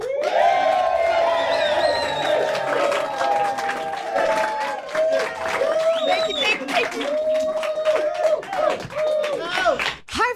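A live show audience bursts into loud, sustained cheering, whooping and applause at close range, a dense wall of clapping and shouts that carries on throughout.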